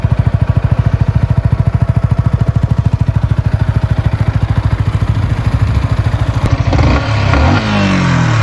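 A 2021 Yamaha XSR 125 motorcycle engine idles loudly with a rapid, steady putter, then revs up briefly near the end.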